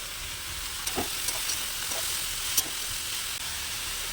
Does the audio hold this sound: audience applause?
no